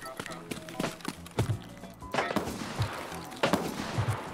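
Gunfire in the video game Escape From Tarkov: several sharp shots at irregular intervals, some fairly loud and close, mixed with talk from players.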